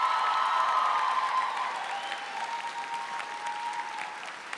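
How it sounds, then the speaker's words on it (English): Graduates and a large crowd applaud the faculty at a university commencement ceremony in a music hall, producing steady, dense clapping that fills the space and eases off slightly toward the end. "Graduates, I'd like you now to turn back and face this way to applaud the faculty"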